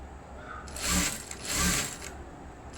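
Sewing machine double-stitching the back part of a blouse, two short close bursts of rapid whirring mechanical stitching separated by a brief pause.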